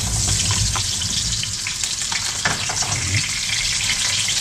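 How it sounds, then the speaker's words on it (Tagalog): Garlic and onion frying in hot oil, a dense, steady sizzle with crackling and spattering that stays loud and close throughout, with faint clinks of stirring underneath. "Nilagay natin ang bawang ng sibuyas."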